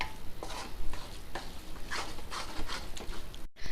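Kothu parotta with egg sizzling and frying on a stove, with a steady close hiss broken by repeated sharp clanks and scrapes of a spatula chopping and stirring on the hot pan.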